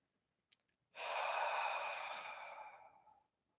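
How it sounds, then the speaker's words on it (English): A single long, breathy inhale for a singing warm-up exercise: a short click, then a close airy rush lasting about two seconds that fades out, with no talk. "You do this, breathe in."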